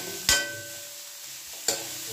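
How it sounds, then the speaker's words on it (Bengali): Onions frying in a pan for a chicken masala gravy give a faint, quiet sizzle, broken by two sharp stirring scrapes about a second and a half apart. "দিয়ে আমি এটাকে ভালো করে পেঁয়াজটাকে সুন্দর করে"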